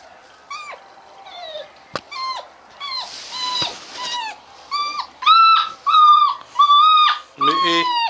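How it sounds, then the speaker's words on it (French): Many sled dogs yelp, whine and bark in a chorus of high, rising cries in wintry Quebec, close and loud, with repeated overlapping calls that grow more intense toward the end. "Il y a plein de chiens, des chiens partout."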